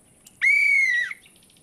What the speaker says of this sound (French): Mon sifflet.